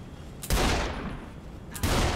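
Two loud, close gunshot bursts ring out in Saints Row: The Third, each a sharp crack followed by a decaying echo, spaced just over a second apart.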